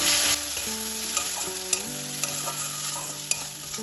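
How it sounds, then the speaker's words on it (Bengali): Ground cumin, black pepper and turmeric with salt fry in oil for Bengali egg posto curry, a strong steady sizzle with rhythmic stirring scrapes and occasional clicks, music tones humming underneath. "সব কিছুকে তেলের সাথে ভালোভাবে কষিয়ে নিন"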